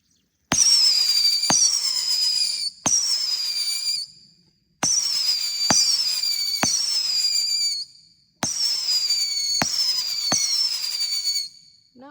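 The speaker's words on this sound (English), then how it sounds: "Now we're going to shoot Halley's Comets by Top Gun Fireworks." Halley's Comets fireworks from Top Gun Fireworks: loud thumping launches, each followed by a rising, warbling whistle that trails off, fired in three bursts with short pauses between them.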